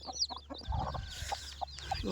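On a farm in Telangana, a hen clucks softly among her chicks. Short low clucks and a few thin peeps come through faintly over quiet background noise.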